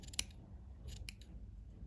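Close snips of scissors cutting: one sharp snip, then a pair of quick snips a moment later, over a quiet low hum.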